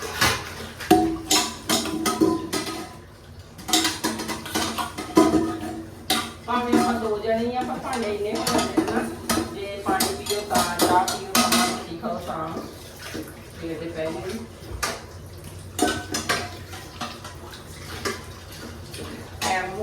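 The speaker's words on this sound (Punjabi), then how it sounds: "ਆਪਾਂ ਕਰ ਲਈਏ ਭਾਂਡੇ ਸਾਫ਼" Dishes, pots and utensils being washed under running water, with splashing and clattering that carry on steadily over about twenty seconds while someone talks over them.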